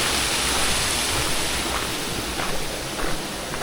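Steady rush of the Kozjak waterfall in Slovenia, a continuous roar of falling water, close and fairly loud, with no voices over it.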